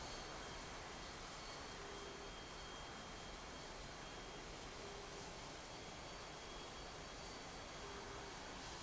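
JAS 39C Gripen fighter jet taxiing on a runway, a steady broadband jet engine roar with a faint high whine, constant and unbroken throughout.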